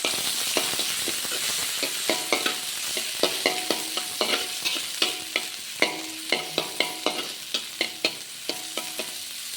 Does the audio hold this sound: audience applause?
no